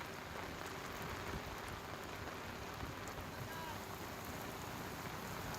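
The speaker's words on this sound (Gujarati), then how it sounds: "નર્મદા જિલ્લામાં મોડી રાતથી જ અવિરત વરસાદ વરસી રહ્યો છે" Heavy, unbroken rain pours down in Gujarat's Narmada district after falling since late night, a dense steady wash of drops that fills the scene evenly with no pauses.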